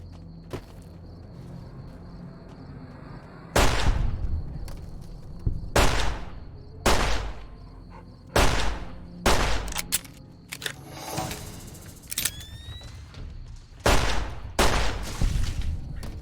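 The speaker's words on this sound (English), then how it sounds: "I don't know where all the gunshots just started coming from" Bursts of rapid gunfire erupt repeatedly in Fallout: New Vegas, loud and close, separated by short pauses with quieter background rumble between volleys.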